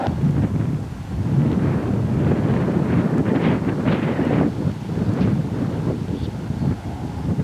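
Strong wind buffeting the microphone in uneven gusts, a heavy rumbling roar that rises and falls.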